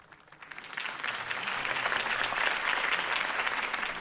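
Crowd applause in the Batman Telltale video game, dense clapping that starts light and quickly builds into a sustained, fairly loud ovation lasting several seconds, with no talk over it.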